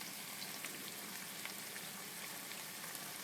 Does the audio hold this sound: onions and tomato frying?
yes